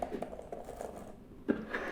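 Keys clatter on a Microsoft Surface Pro 4 type cover keyboard resting on a table, a quick even patter of soft clicks close up, with a slightly firmer tap near the end.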